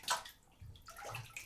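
Water sloshes and splashes in a bathtub with a bright splash at the start, a pause, then softer gurgling movement close by, with nobody talking.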